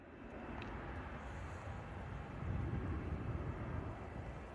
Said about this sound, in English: Beautiful departure there from the A321 Neo EasyJet heading out to Lanzarote.